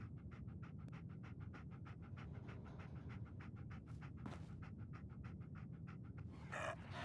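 A dog companion in a video game pants quietly and rhythmically, quick even breaths repeating steadily, with a brief louder shuffle near the end and no voices.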